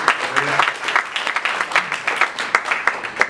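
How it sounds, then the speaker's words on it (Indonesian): A church congregation applauding during a service, a lively burst of many hands clapping with some distinct sharp claps standing out near the end, close and loud, with no talk over it. "Saya mau dengar sekali lagi tepuk tangan buat Allah kita yang dahsyat saudara."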